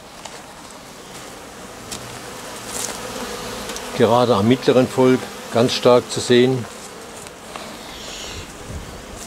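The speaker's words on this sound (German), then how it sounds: "Man sieht sie auch am Bienenflug." Steady buzzing of many honeybees flying around a hive, with someone speaking briefly over the humming swarm.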